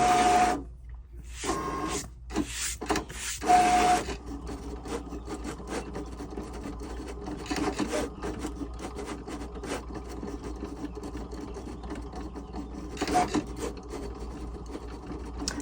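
A Cricut Explore cutting machine works through a flower pattern, its motor whirring and blade scraping continuously with shifting pitch, interrupted early by a few brief pauses and short beeping tones.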